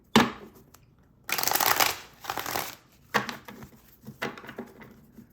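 Rider-Waite tarot cards shuffled close by in several separate bursts of papery riffling and shuffling, with short quiet pauses between each round.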